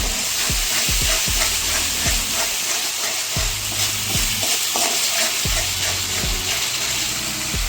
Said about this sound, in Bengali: এটা এবার পেঁয়াজের সঙ্গে কষাবো।